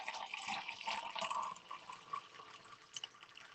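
Brewed coffee poured from a cafetiere into a glass makes a faint, steady liquid trickle with small splashes, and no one speaks.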